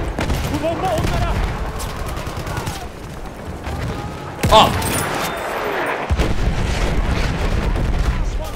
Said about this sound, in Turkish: Oğlum çok patlama oluyor ya